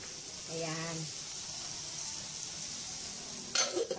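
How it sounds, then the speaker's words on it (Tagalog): Sinangag, Filipino garlic fried rice with mixed vegetables, fries in a pan with a soft continuous sizzle, a brief tonal hum early on and a clatter of utensil stirring near the end, with faint talk in the background. "Tapos ngayon, gumagawa ko ng sinangag."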